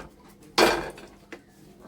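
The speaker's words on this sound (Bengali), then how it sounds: "এবার আমি ঢাকা দিয়ে রেখে দিচ্ছি" A lid set onto a cooking pot in a home kitchen during fish curry preparation gives one loud, short metallic clatter, followed a moment later by a softer clink.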